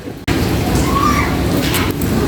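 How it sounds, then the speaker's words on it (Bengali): Heavy rain pours down in a dense, steady roar close by, with no voices. "বাইরে প্রচন্ড বৃষ্টি।"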